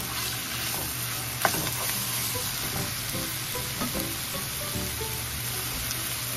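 Ground beef with onion fries in a pan, giving a steady, dense sizzle with occasional scraping as it is stirred, one sharper clack standing out early on.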